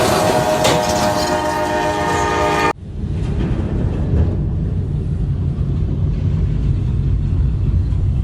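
A train horn blasts loudly for a few seconds, then cuts off as the train rumbles past close by with steady rolling noise.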